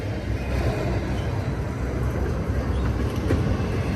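A long, heavy freight train rolls past at Verdemont with a loud, continuous rumble and grinding of wheels on rails, steady throughout.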